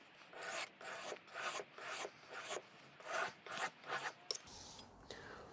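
Kitchen knife of hard steel drawn across a sharpening stone in a series of rhythmic rasping passes, about eight strokes in steady succession, close and fairly quiet, ending in near silence.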